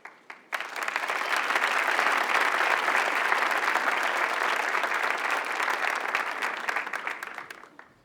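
After a brief quiet moment, a conference crowd bursts into full, sustained applause that holds steady before tapering off at the close.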